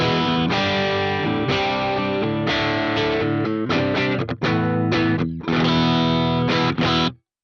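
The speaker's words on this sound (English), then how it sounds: "Currently, I'm using the Dynamic 57 mic and it sounds like this" Electric guitar through the Archetype Plini X amp plugin, captured with a dynamic 57 mic, playing sustained distorted chords and riffs that are loud and continuous, then cutting off abruptly at the end.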